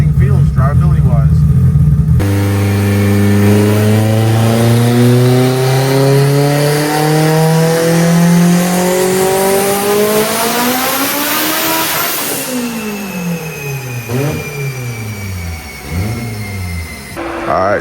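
Haltech-tuned Mitsubishi Evo revving hard on a dyno, the engine note climbing steadily to a loud high-rpm peak, then dropping away through several lower revs and blips as it winds down.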